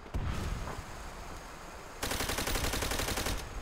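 Sustained automatic gunfire in the PC game Call of Duty: World at War, a dense, loud stream of rapid shots that grows heavier and more rhythmic halfway through, with no voices over it.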